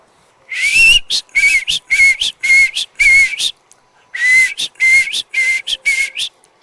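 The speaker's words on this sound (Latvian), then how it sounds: "Es svilpoju kā putniņš pavasarī." A person whistles bird-like trills in a performance setting, a run of five short, high, chirping phrases, a brief pause, then four more, loud and close with no talk.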